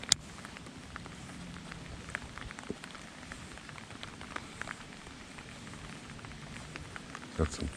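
Steady light rain pattering on a surface and water during bass fishing, a soft continuous hiss with scattered drops throughout, fairly quiet and even, with brief faint handling noises near the end.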